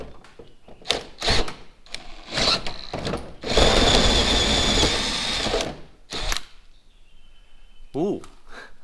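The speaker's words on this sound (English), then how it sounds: "I've got to drill through that panel very, very carefully" A power drill bores through a wooden bed panel in a series of short bursts, then one longer sustained run, with a person talking between the bursts.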